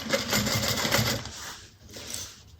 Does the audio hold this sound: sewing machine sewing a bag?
yes